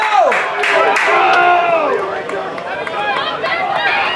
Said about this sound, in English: Now let's make some fucking noise, Bentley!